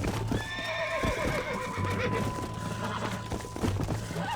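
A horse whinnies loudly over steady hoofbeats in the video game Red Dead Redemption, with rumbling low noise and scattered thuds throughout.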